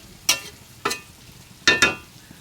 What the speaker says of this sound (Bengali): এই তরকারিটা কষাইতেছে